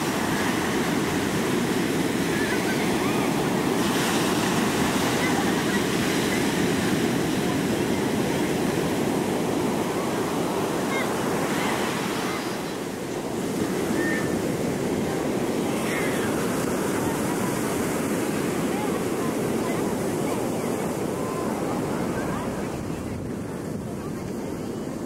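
Surf rolls in at Wrightsville Beach on the North Carolina coast as a constant, loud wash of breaking waves, with heavy wind rumble on the microphone and no talking.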